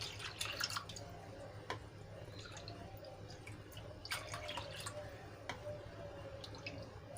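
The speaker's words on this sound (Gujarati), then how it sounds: "પાણી એડ કરીશ" Three cups of water trickle and splash quietly into a pot for kadhi khichdi, with scattered drips and clinks over a faint background hum.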